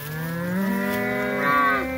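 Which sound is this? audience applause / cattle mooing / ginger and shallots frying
cattle mooing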